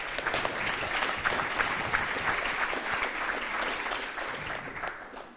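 An audience at a forestry conference panel applauding, a continuous, even patter of many hands at moderate distance that holds for several seconds before tapering off at the end.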